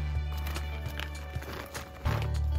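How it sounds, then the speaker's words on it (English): Horse sounds in a farm-animal collection: a few soft hoof clops scattered over a short stretch, with a brief whinny-like vocal layered over a steady low background, moderately faint. "We have a horse."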